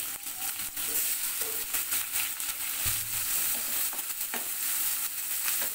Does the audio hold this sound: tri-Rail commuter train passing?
no